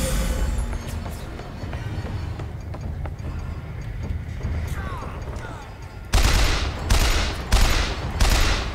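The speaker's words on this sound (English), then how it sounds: "The volley gun." A volley gun fires in Bioshock Infinite as four loud, evenly spaced booming shots close together near the end, after a stretch of quieter game ambience.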